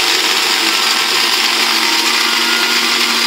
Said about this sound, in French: je vais tout mélanger, je vais tout mixer jusqu'à obtenir une sauce